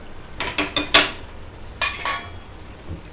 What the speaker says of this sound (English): Again, give it all a good mix.